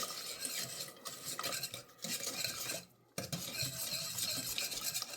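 Rum cake batter with Bacardi Gold rum is whisked in a bowl, giving close, rhythmic scraping and clinking of a whisk against the bowl with a brief pause midway.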